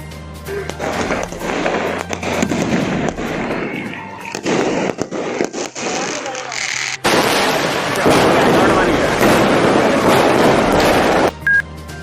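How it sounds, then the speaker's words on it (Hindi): Dense, continuous crackling and popping of Eid moon-sighting fireworks in Varanasi neighborhoods, loud and sustained, with bursts overlapping and a background hum throughout. "चांद दिखने के बाद मुस्लिम बाहुल इलाकों में जमकर आतिशबाजी की गई।"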